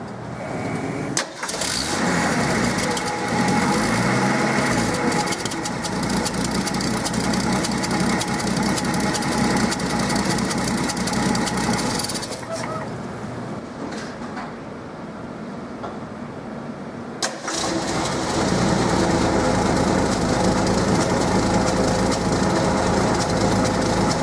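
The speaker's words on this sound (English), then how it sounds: "It's going to ask us to start the engine." A car engine cranks and catches, then runs loudly with a steady rumble; it dips briefly partway through before revving back up to a strong idle.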